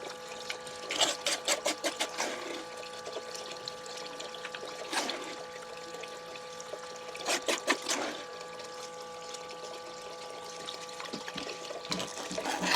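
While gold prospecting in Wisconsin, water trickles and sloshes steadily over a sluice or pan, washing black sands down, with bursts of rapid rattling and splashing over a constant running-water background.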